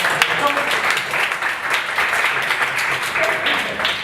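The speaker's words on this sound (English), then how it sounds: "I would also like you to applaud the artificial intelligences, only if you think they deserve it" An audience at a live improv comedy show applauds the AI performers with a modest, scattered patter of clapping at medium loudness, continuing steadily with a faint voice briefly audible beneath.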